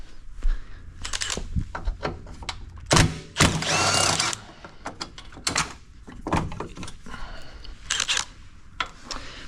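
Bolts coming out of the rear crash bar of a 2023 Toyota Prius during a hitch install: bursts of ratcheting and whirring tool noise, with one longer loud run and sharp metallic clanks in between, close up.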